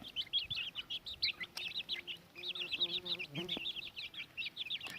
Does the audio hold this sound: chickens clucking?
yes